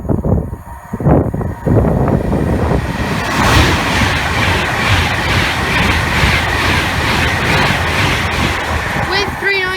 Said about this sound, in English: we've got another Avanti West Coast Class 390 going from Liverpool Lime Street to London Euston